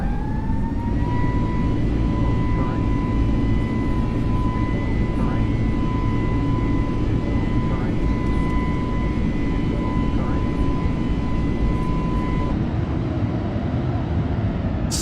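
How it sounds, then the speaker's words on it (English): Simulated Airbus A320 jet engines in Microsoft Flight Simulator roar loudly and steadily during a go-around, with a sustained tonal whine holding through most of the sound before it cuts off near the end. "right here, you'll hear the engine spool up when I decide to go around"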